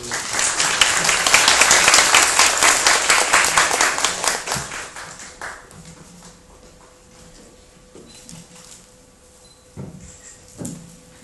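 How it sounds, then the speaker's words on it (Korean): An audience at a film talk in a library gives another round of applause, loud dense clapping that fades out after about five seconds, leaving a quiet room with a few scattered knocks. "다시 한번 박수"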